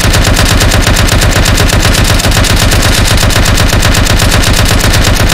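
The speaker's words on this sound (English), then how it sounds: "Somebody's behind us and shooting as well." Arma 3 gunfire: loud, continuous rapid automatic bursts hammering without pause, a dense rattling fusillade right up close.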